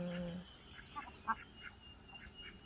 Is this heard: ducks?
yes